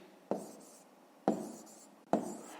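Numbers being written during a long-division exercise, heard as three distinct scratchy strokes, each sharp at the start and then fading, spaced about a second apart, close and quiet without talk.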